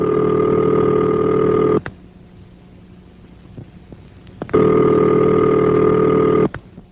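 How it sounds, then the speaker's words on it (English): Two long steady electronic telephone ringing tones, each about two seconds, separated by a quiet gap with faint clicks. "And this is the ringing signal."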